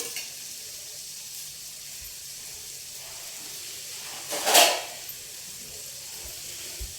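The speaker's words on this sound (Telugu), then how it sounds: "ఇది మగ్గుతుంది, కొంచెం మూత పెట్టుకుందాం." Carrot, coconut and tomato vegetables for chutney sizzling in a pan, a steady soft hiss throughout with one brief louder burst of frying midway, no voices.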